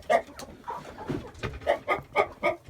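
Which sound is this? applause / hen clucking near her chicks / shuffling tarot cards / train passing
hen clucking near her chicks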